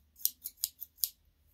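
Scissors snipping in the air while supplies for a paper gratitude jar craft are laid out: five quick, crisp metallic cuts in a steady rhythm, close and clear, with no talking.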